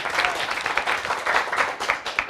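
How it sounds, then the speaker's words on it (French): A crowd at a live televised show claps for a guest named Zamaré, a dense, steady patter of many hands with small swells, fairly close and continuing for the whole stretch. "Est-ce qu'on peut l'applaudir encore?"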